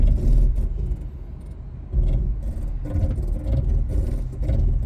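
A Lexus GX460 in crawl control mode labours out of a dirt rut, with a low, steady engine rumble and drivetrain grind that swell and ease in uneven surges, close to the microphone.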